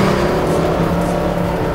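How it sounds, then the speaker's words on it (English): High-horsepower V8 of a Mercedes SLS AMG on a racetrack, a loud, dense, steady engine roar from inside the car, continuous throughout. "Little wiggle under power there. That high horsepower V8 engine."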